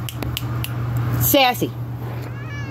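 A cat gives a single short meow amid quiet indoor sounds, with a person speaking nearby and a steady low hum underneath.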